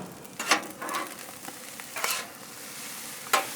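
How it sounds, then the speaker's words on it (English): Smoked pork belly fried rice being stirred on a Blackstone 22-inch griddle, with a soft steady sizzle and several sharp metal spatula scrapes spaced across the clip, fairly close and without talk. "It's hard to stir something with these gloves on."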